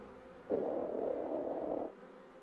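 A honeybee buzzes during a waggle dance in the hive, one sustained mid-pitched drone lasting more than a second before it stops abruptly, with quiet before and after.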